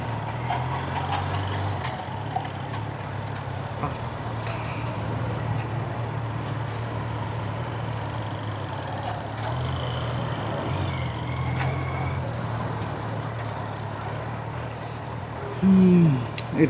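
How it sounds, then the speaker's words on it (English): A traffic jam of cars and trucks backed up at a road checkpoint on the route from Bangalore to Chikmagalur produces a steady low engine rumble with occasional honks and a hiss of air brakes, ending in a closer engine burst. "Looks like full traffic jam."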